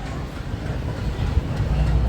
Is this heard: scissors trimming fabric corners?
no